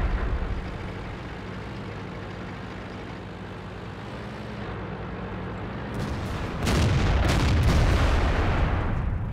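A tank cannon fires in a tank video game featuring a T-34, a single loud boom breaking over a steady low engine rumble and lingering into a broad roar.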